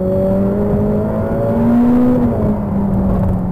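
A Ferrari F8 Tributo V8 engine drives under steady load with a loud, smooth, sustained drone that climbs and shifts in pitch as the car moves, with no voices.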